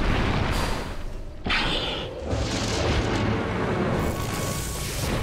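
A Sun Strike ability explosion in a video game hits as a loud, rumbling boom, followed by a quick second burst and a continued, roaring blast for several seconds.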